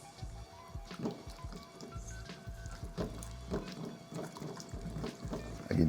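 Cornmeal porridge is whisked in a pot while liquid streams in gradually, giving continuous close sloshing and wet scraping with rhythmic whisk strokes and a brief louder splash at the end.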